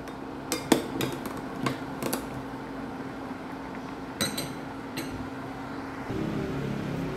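Korean sujebi soup stirred in a pot on a stove, a few sharp metallic clinks of the utensil against the pot over a steady low background hum.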